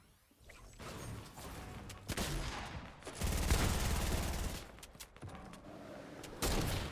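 Heavy pump shotgun firing in a Fortnite Battle Royale match: several loud, booming blasts with dense crackling bursts, close and harsh, separated by short gaps, with no clear talking over them.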